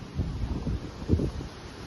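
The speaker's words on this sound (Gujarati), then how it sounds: "મસ્ત વાયરો આવે આખા દાડાનો તાપ જતો રહ્યો." An evening breeze blows outdoors, rumbling against the microphone in soft gusts that swell and fade, with a faint rustle underneath and no voices.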